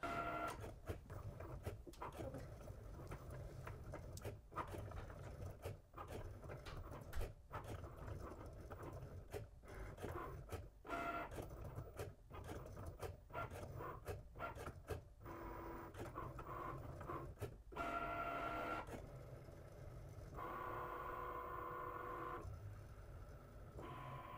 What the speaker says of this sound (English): Now when it's done drawing, it automatically goes to start cutting for you.